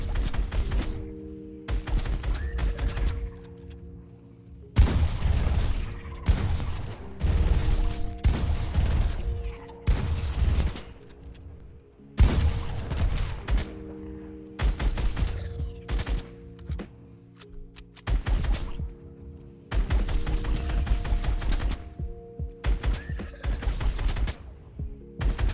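Rapid bursts of gunfire from shooting launched targets in a Fortnite Chapter 2 aim warm-up course, loud repeated volleys with brief pauses between them, continuing throughout without talk.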